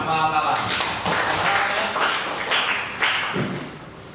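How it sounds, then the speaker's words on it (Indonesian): A dense, steady wash of audience clapping for Akmal Atala, named first-place winner at a classroom teaching performance assessment, continues for several seconds under a speaking voice. "Tepuk tangan untuk Akmal Atala."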